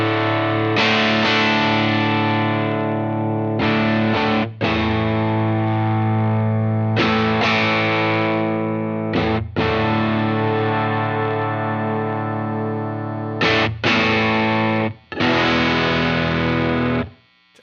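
An electric guitar plays through a Lytt Effects Rosie pedal, giving loud, distorted sustained chords in several strummed phrases separated by short breaks, with no talking.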